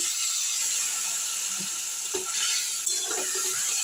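Paneer gravy with cashew and poppy seed paste, turmeric, chili powder, salt and sugar being stirred in a pan with a little water, giving soft scraping and faint sizzling with scattered light clinks at steady close range.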